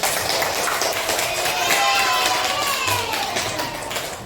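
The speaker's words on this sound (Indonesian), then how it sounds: "kita beri aplaus untuk Putri" A class of children in a grade 6 classroom claps together for their classmate Putri, a steady, dense burst of applause that slowly tapers off, with a teacher's voice speaking over it.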